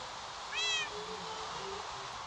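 A cat lets out a single clear meow in a house, rising and then falling in pitch and standing out above a steady background hiss, with no one speaking.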